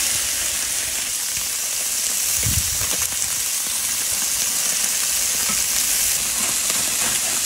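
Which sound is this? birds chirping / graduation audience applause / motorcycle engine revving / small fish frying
small fish frying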